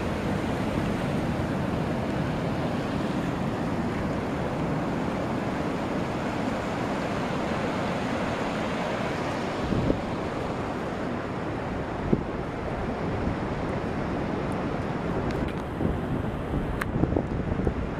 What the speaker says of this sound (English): that tide's just creeping right up there.